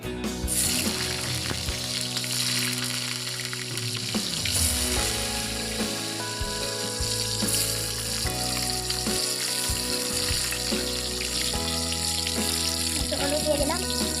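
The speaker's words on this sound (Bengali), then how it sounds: "তাই আলুটা আগে ভেজে নিই" Potatoes fry in hot oil in a home kitchen, a steady broadband sizzle running unbroken for the whole stretch, joined by clinks and scraping from the pan and light background noise.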